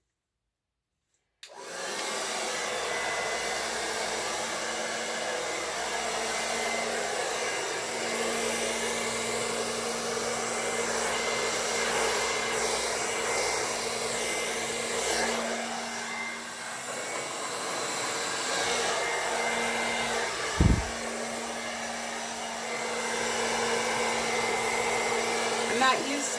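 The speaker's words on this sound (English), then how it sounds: "I'm not used to this blow dryer." A blow dryer on its low, cool setting is used on an acrylic Dutch pour painting, with a steady loud whooshing drone after a brief silence and a small bump near the end.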